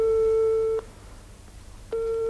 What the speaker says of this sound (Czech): Tohle je můj telefon na vratkém stolku v předsíni.